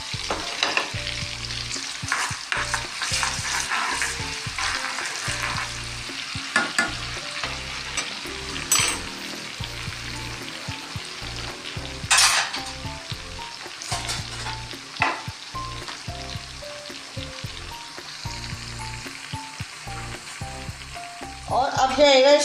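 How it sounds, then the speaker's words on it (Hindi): Chopped onions sizzle steadily in hot oil with cumin while a spoon stirs and scrapes the pan now and then, the frying loud and continuous throughout. "पहले हम प्याज को थोड़ा सा फ्राई करेंगे"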